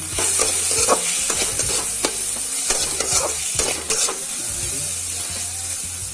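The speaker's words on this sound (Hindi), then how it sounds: "टमाटो भल भाव फ्राए हो गले" Tomatoes fry in a pan for an onion-tomato curry, a constant sizzle overlaid by frequent clattering spoon strokes against the pan in an uneven rhythm for the first few seconds, then fading to a steadier hiss.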